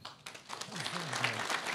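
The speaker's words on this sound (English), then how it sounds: "A big applause for him." Audience applause for a solution architect welcomed onto a conference stage, a dense wash of clapping building and holding steady, with a voice speaking over it partway through.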